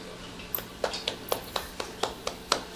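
Hand claps greeting a speaker at a Hindi-language training event: about ten crisp, evenly spaced claps in a steady rhythm, fairly close and sparse rather than a full roar of applause.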